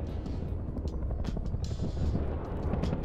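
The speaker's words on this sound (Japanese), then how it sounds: "ヘリ来てるんで一回隠れる。" A helicopter approaches in the survival video game Rust, a dense, steady low rotor rumble and whir that fills the whole stretch at an even, fairly loud level with a slight swell midway.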